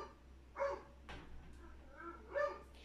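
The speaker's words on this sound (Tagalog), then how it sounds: "tahol ng aso namin" A pet dog barks indoors in a home during an unboxing, giving two or three short, fairly close yelps with a pause between them over a low steady hum.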